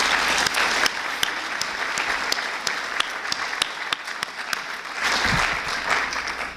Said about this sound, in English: a round of applause to thank Nicole